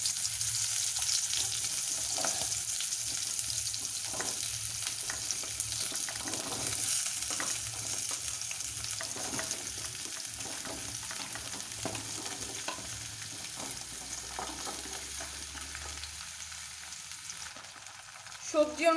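Vegetables frying in about two tablespoons of oil in a kadai with panch phoron tempering give a steady, close, continuous sizzle and crackle for the whole stretch, with occasional stirring and no talk.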